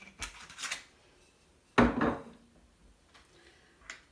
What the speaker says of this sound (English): whisk that up with a fork